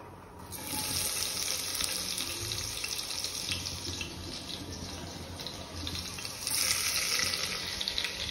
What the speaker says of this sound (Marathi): त्याच्या आधी जिरा टाकलेला. आता मी टाकते लसूण,